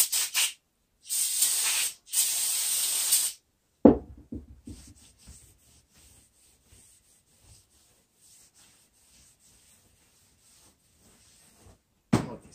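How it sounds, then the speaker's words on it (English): Brake cleaner sprayed from an aerosol can into bolt holes while installing a Yukon Grizzly locker: two sustained hissing bursts close to the microphone, followed by a clunk and faint handling noises. "I got some brake cleaner."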